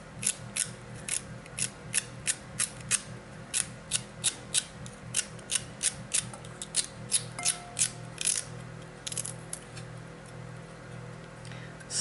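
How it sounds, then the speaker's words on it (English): A knife chops celery stalks into tiny pieces on a cutting board, with quick, regular crisp taps in a steady rhythm that slow slightly near the end, close and clear with no talking. "I'm cutting up celery, a couple stalks of celery"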